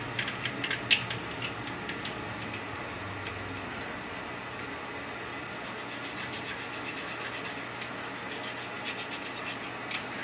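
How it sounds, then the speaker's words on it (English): An old toothbrush scrubs steadily into the nooks of a polymer pistol frame, a continuous soft bristly rubbing that lasts throughout at low, even volume with no talking. "just take the brush and get in all those little nooks and crannies"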